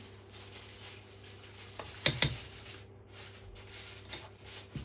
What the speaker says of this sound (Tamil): இப்போ அதையும் நல்ல வடிவாக நாங்கள் மிக்ஸ் பண்ணி இப்படி எடுக்கணும்.